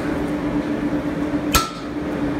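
A small chisel carving oak leaves for a decorative bench end takes one sharp hammer strike with a brief metallic ring, over a steady workshop hum.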